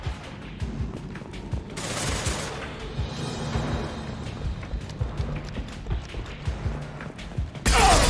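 Gunfire in a Mass Effect 2 battle, with rapid bursts of shots and clattering combat effects running through most of the stretch and a loud burst near the end.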